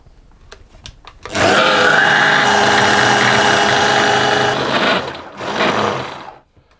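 An electric food processor or mixer whirs loud and close as pastry dough is mixed with egg yolk, a steady motor hum for several seconds, then a brief second burst before stopping.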